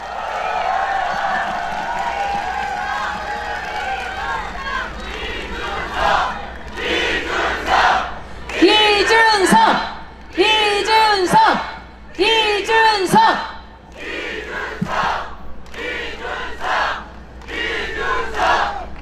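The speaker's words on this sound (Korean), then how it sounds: "다 함께 큰 박수 주십시오." A crowd at an outdoor presidential election rally near Bongeunsa Station by COEX in Gangnam, Seoul, cheers and shouts in rhythmic waves. An announcer's amplified voice carries over the start, then repeated chant-like bursts of crowd roar rise and fall.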